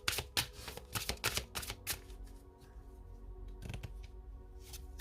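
Tarot cards being shuffled by hand, crisp riffling bursts in quick clusters up close, then softer card handling and sliding, with no voice over it.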